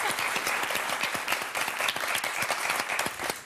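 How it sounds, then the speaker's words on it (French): A television game show studio audience applauds steadily, dense clapping at moderate volume filling the space without any voices. "Bravo, on va vous applaudir toutes les quatre"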